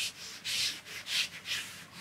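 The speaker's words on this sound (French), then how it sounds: "Je passe un peu d'alcool sur ma moulure. Et par frottement" Cotton polishing pad rubbing alcohol along a painted wooden moulding, a soft hissing scrub in several repeated strokes, fairly close and quiet, with no voices.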